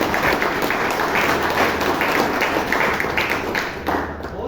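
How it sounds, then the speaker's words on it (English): Applause from a Toastmasters club meeting audience in Bangalore greeting the club's founder member, a steady patter of hand claps from many people filling the room, moderately loud, with no talk over it. "Can I have a round of applause for him?"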